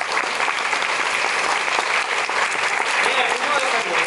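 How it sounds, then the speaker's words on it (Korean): Audience applause at a post-show talk for a stage production of Trainspotting as the cast and adapting writer are welcomed, a thick continuous wash of clapping from a full house, loud and steady. "박수 주세요."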